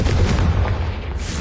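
A Confringo blasting curse explodes in Hogwarts Legacy multiplayer on PlayStation 5, a loud booming burst that rumbles and decays over about a second before the noise thins out.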